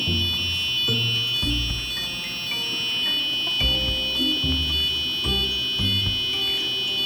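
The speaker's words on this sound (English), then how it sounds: "Yes, that's the sound, the tone that we have configured in our Arduino Uno code." A steady, piercing high electronic tone from a buzzer driven by an Arduino Uno, sounding continuously and loudly throughout, with low background music or thuds underneath.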